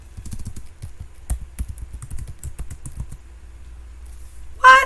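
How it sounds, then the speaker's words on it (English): Rapid clicking on a computer keyboard for about three seconds, close and moderately loud, then a pause and a brief electronic tone at the end. "it would help if I could type correctly"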